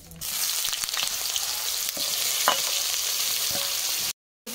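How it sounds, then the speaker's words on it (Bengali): Washed, water-soaked soybean chunks dropped into hot oil in a home kitchen, giving a loud, steady, close sizzle that holds for several seconds before cutting out briefly near the end. "তেল গরম হয়ে গেছে, দেখুন সয়াবিন পরিষ্কার করে জল দিয়ে চুবড়ে নিয়েছি। এবার তেলের মধ্যে দিয়ে দেবো।"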